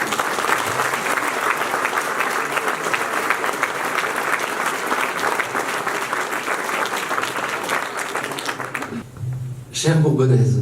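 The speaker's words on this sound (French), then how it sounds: "je vous propose de les applaudir" A hall audience at a departmental New Year address in Allier applauds steadily for about nine seconds, a dense, sustained wash of clapping that drops away abruptly before a voice begins speaking.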